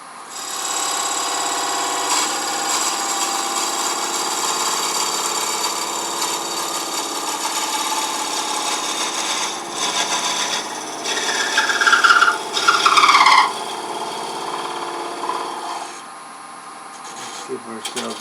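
A wood lathe spins a cherry turning while a tool parts it off, producing a steady close grinding rasp that swells into a louder scraping screech near the end before dropping away.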